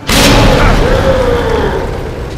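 A grenade goes off in the Resident Evil 2 Remake game, one loud close boom with a sharp onset and a long rumbling decay that fills the whole moment.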